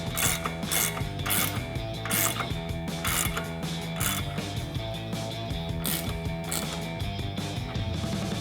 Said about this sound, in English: take an 18mm ratcheting wrench to tighten that down